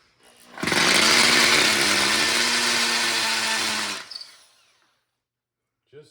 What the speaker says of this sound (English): So I'm going to just drill some pilot holes first.